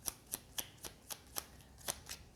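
Tarot cards shuffled by hand in quick, even riffles, about nine crisp papery flicks in a row, close and quiet with no talk.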